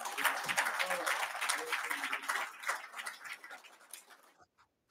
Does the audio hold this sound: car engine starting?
no